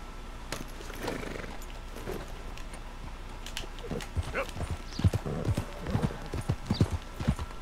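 Horse hooves clip-clopping in Red Dead Redemption 2, an irregular run of hoofbeats that grows denser and louder toward the end, with a faint whinny and birds in the background.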